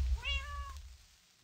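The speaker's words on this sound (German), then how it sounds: "Da saß eine Katze." A cat in the Minecraft video game gives a single short, rising meow, clear and close over a low background rumble, then fades to quiet.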